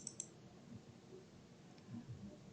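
Two quick, close computer mouse clicks at the very start, sharp and faint, followed by quiet room tone.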